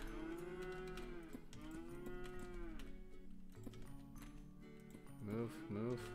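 Several video-game cows moo in long, drawn-out calls, overlapping at times, with some clattering and a voice chiming in near the end.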